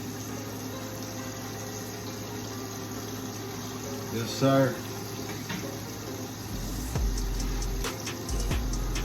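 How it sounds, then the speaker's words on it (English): Six pork chops for garlic parmesan frying in grease, a steady sizzle running throughout with a brief burst midway, under a short spoken reply and low background hum. "We're frying pork chops."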